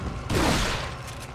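A single shotgun blast in Resident Evil 4 (2005), a loud broadband boom with a short decaying tail, heard alone with no talk.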